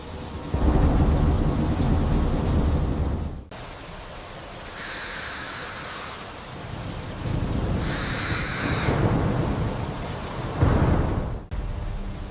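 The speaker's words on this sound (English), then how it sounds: "The storm has been relentless." Rain and a thunderstorm on Mars come as dense broadband rain noise with heavy low rumbles that swell and break off abruptly, joined by brief higher bird-like calls.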